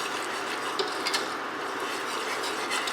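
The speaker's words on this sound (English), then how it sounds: "I'm going to whisk this all together until we get it nice and thick and bubbly." Chicken pot pie sauce whisked in a pot until thick and bubbly, a continuous close sizzling hiss with light scraping and clicking strokes, steady and moderately loud, no talk.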